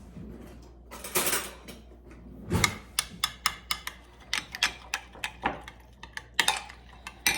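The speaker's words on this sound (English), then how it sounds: "I have 1 egg. And I'm going to give that a good mix." Whisking an egg into scone batter for cranberry orange scones, a run of quick irregular taps and clicks of utensil against bowl, close and fairly crisp, starting after a short pause; no talk.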